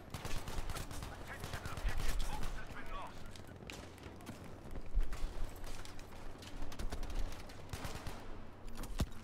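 Machine gun and rifle fire in the shooter game Battlefield 5, a conquest match; rapid bursts and scattered shots at varying distances, with background voices under the gunfire.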